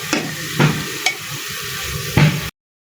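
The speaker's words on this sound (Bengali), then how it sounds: "ভালো করে ভাজা ভাজা করে নিব" Whole spices dropped into hot oil crackle and sizzle up close, with a few louder scraping stirs over a low steady fry, then the sound cuts off abruptly.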